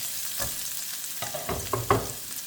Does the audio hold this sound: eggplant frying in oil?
yes